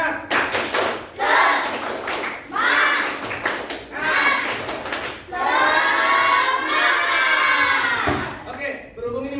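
A classroom group performing a rhythmic clap chant, with bursts of sharp patterned clapping and children's voices shouting along in unison, close and lively, repeated in several short phrases.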